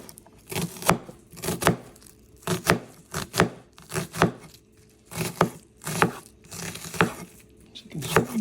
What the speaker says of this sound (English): So this is how I cut the onions.